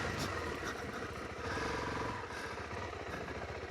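A Suzuki DR-Z4S motorcycle on road tyres rides and brakes under ABS on slippery gravel, its engine a steady close rumble with crunching gravel clatter throughout.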